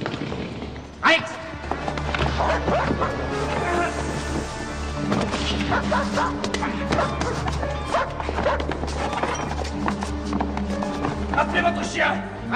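A dog barks repeatedly in short bursts amid heavy overlapping talk and loud background music, with thuds and movement mixed in.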